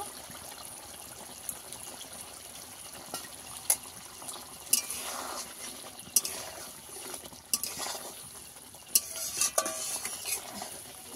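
Egg curry with garam masala bubbles softly in a pan, punctuated by sharp clicks and scrapes of a utensil stirring against the metal at irregular intervals.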